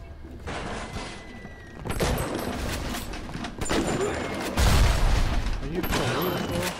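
Enemy gunfire bursts in the BioShock video game, a few loud shots and booms scattered across the clip amid game noise, with a voice talking over it.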